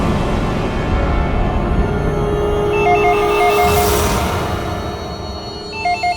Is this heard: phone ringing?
yes